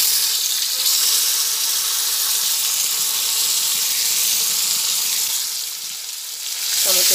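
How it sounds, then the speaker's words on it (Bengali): Chopped tomatoes fry in a pan with ginger and spices for lentil dal, a loud, steady hiss of sizzling oil with no break, ending with a few soft stirring knocks. "টমেটো দিয়ে একটু ভালোভাবে ভেজে নিচ্ছি।"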